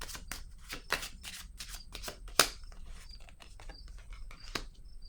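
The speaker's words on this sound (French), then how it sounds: "je vais piger une autre carte ici" Tarot cards are shuffled and drawn, with quick papery riffles, flicks and taps close up and quiet, ending in a crisp snap as a card is pulled.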